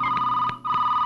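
A telephone rings loudly and near in a Telugu film scene. The steady electronic tone drops out for a brief moment, then resumes.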